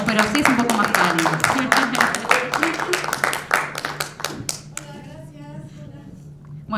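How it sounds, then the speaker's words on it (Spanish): Small audience claps warmly to welcome a film director onto the stage at a documentary screening, a dense burst of close hand claps that thins out and fades after a few seconds, with voices speaking over it. "lo podemos aplaudir así"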